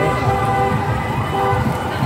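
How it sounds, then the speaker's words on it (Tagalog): A fire truck siren sounds during a Chinese New Year parade in Binondo, holding loud, steady tones over a busy background of crowd and street noise. "Puro fire truck na kasunod nun."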